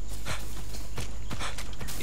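Horse hooves clip-clopping in a video game, an uneven run of hoof beats over a constant noisy background, with a few heavier thuds standing out.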